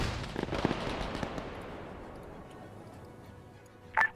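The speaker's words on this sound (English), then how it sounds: "There's the autocannon firing at them." Autocannon fire in the Arma 3 video game: a rapid burst of heavy shots at the start that fades into a long rolling echo, followed by one sharp louder report near the end.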